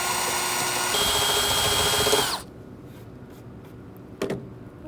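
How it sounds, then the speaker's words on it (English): A power drill whines loudly and steadily, boring holes while installing a DumperDogg dump insert, then cuts off abruptly, followed by quiet with a couple of faint clicks and knocks. "So what we're going to do is just drill these holes."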